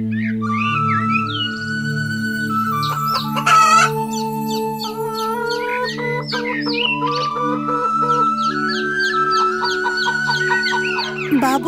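Rooster clucks and crows close by, with other fowl calling over a steady low hum; the calls repeat throughout without any talking.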